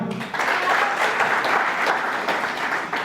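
A seminar audience at a wellness product presentation claps together, a brief burst of steady, moderately loud applause following a short spoken moment at the start.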